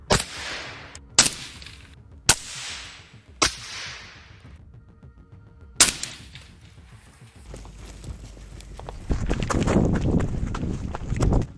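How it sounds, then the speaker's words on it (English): Sniper rifle shots fired in a combat setting: five sharp, loud cracks with ringing tails spaced roughly a second apart, followed by a rising rush of broadband noise and rumble. "Выстрел."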